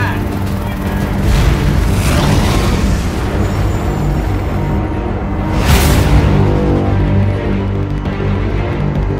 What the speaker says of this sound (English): the rig is about to explode